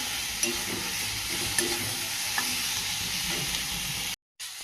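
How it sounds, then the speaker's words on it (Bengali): Food sizzles steadily in hot oil in a pan while being lightly stirred, with a few soft scraping knocks; the sound cuts out briefly near the end. "হালকা একটু নাড়া দিয়ে ভাজা করে নেব"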